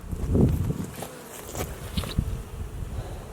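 Close, continuous buzzing of many honeybees, a low droning hum with a few louder passes near the ear, no voices.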